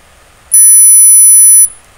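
An online hearing test tone plays: one loud, steady, high-pitched pure tone lasting about a second, starting and stopping abruptly over near silence.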